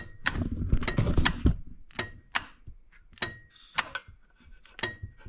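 A classic car's air conditioning compressor clutch running with jumper-wire power from the battery, giving sharp repeated mechanical clicks and clacks at uneven intervals, close and fairly loud, with a brief rumble at the start.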